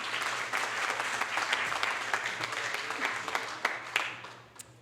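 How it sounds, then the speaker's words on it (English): Audience applause at a John Barry celebration, a steady wash of many hands clapping that holds throughout and thins out near the end, with no talk over it. "You may applaud."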